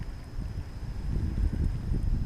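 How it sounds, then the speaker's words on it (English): Wind gusting across the microphone beside reeds while bass fishing, a steady low rumble that swells slightly louder toward the end, with no talking. "Especially with this wind."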